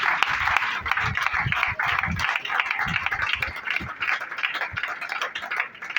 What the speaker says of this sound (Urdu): اور زوردار تالیاں خدا کی شکر گزاری